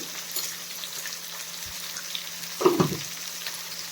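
Tomato rice with a little salt fries quietly in a pan, giving a soft, even sizzle with a short clatter of a utensil partway through.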